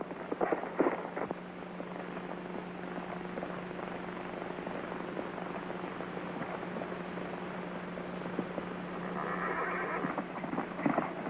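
A horse neighs at the start and again toward the end, shrill whinnies over a faint steady hum, with soft hoof noise between, in a 1935 film.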